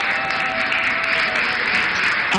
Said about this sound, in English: I think I need a better round of applause